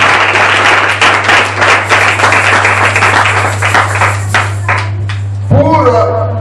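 A church congregation bursts into sustained applause, many hands clapping loudly and unevenly under a steady low hum, fading out before a voice begins.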